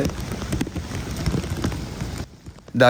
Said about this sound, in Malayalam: വെള്ളച്ചാട്ടത്തിൽ നിന്ന് വരുന്ന വെള്ളത്തിൻ്റെ സ്പ്രേയും മിസ്റ്റും സ്മോക്കും ഒക്കെ ഒരു മഴ പെയ്യുന്ന പോലെയാണ്